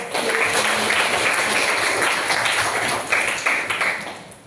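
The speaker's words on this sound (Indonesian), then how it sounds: "beri tepuk tangan untuk." Students in an Indonesian-language classroom clap together in a steady, fairly dense burst of applause that carries on for several seconds at moderate volume, close by and without talk over it.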